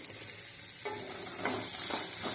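Dosakaya cucumber pieces fry in hot oil, a soft steady sizzle with light scraping as the pan is stirred, fairly quiet and close.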